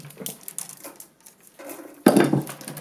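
Wicker strands are cut while weaving a rectangular log basket: soft crunching and snipping of the dry cane close by, ending in a louder, sharper crackling burst, with no talking.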